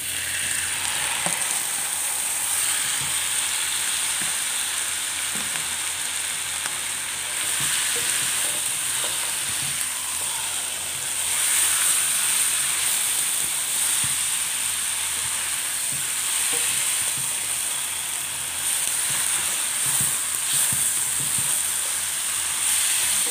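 Marinated chicken fries in a pan, giving a continuous close-up sizzle with soft clinks and stirring noises throughout. The sizzle holds steady at a moderate level, and no one talks.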